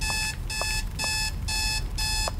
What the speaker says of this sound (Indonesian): Alarm matiin dulu.